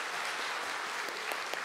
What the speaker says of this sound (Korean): 그래서 수고했으니까 박수 한번 해드리면 좋겠습니다.